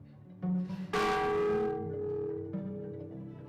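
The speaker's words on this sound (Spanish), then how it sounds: "si yo hago sonar esta campana" A single large colonial-era cathedral bell, dating from around 1790, is struck once and rings out loud and deep, its resonant tone hanging in the air and slowly fading away.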